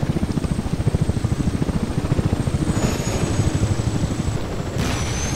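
A Gazelle helicopter in the game Battlefield Desert Combat beats out a rapid, even rotor chop over a sustained turbine hum, loud and near, with a faint high whine shifting partway through.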